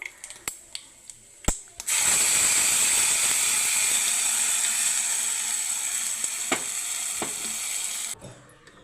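Ground onion chutney hits a hot tempering of oil, curry leaves and chana dal, bursting into a loud, steady sizzle that holds for several seconds after a few sharp clinks of a utensil, then cuts off abruptly.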